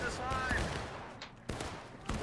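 Gunfire in the Civil War game War of Brothers comes as scattered musket volleys and sharp cracks, some near and some distant, over a steady battle din.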